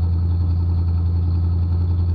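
A 1984 two-door Chevy Caprice engine idles with a low, steady exhaust rumble, close and continuous without any talk.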